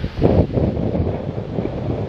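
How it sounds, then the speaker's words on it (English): Cold wind in the Carpathian mountains buffets the microphone in low, rough gusts, a steady roar with no one speaking. "The wind is unrelenting."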